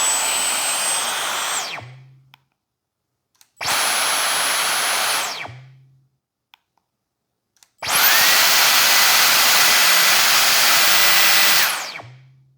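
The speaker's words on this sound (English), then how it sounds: "Let me show you the noise it will make for each individual setting." A Dyson V15 Detect cordless vacuum runs up through its power settings in three loud whirring bursts, each starting and stopping sharply, the last longest and highest, with silence between them and no talk.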